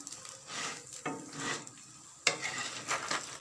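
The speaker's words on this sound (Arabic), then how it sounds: "هاهي بدات تقلى" Stuffed pastry filled with suet and vegetables fries in hot oil, giving a soft, steady sizzle that swells in waves, with a utensil stirring or scraping now and then, close and without talk.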